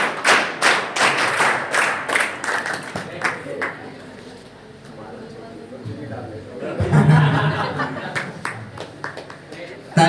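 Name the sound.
audience applause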